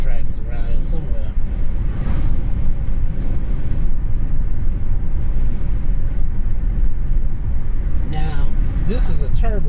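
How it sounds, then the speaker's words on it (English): A turbo engine hums steadily from inside a moving car, with a low rumble throughout and voices talking intermittently over it. "This is a turbo engine."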